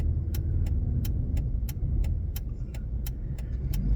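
Road traffic streams past on a street near construction work: a continuous low engine rumble of passing cars, with a regular ticking pattern repeating over the steady roar.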